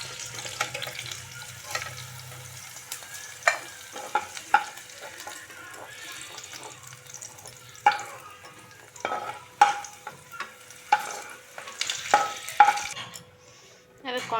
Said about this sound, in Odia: ଏବେ ଆମ ସିମ ହାଲକା ଫୁଲକା ଭାଜି ହେଇ ଆସିଲାଣି